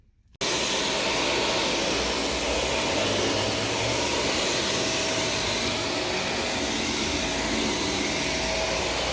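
A vacuum cleaner runs on carpet with a loud, steady motor roar and airy whine, starting abruptly and holding constant throughout without talk.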